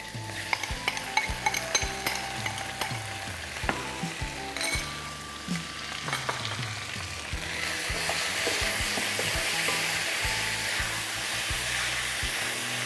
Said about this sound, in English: So when the onions and the garlic is fragrant, we put in our minced pork.